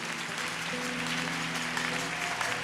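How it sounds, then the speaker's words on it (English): Congregation clapping hands during a church service, a steady wash of many hands heard fairly softly throughout, with a low sustained tone underneath. "You clap your hands and you sit down."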